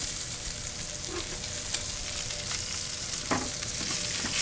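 Steaks searing in a hot pan, a loud, continuous crackling sizzle with small spits and pops, heard close up throughout with no talk.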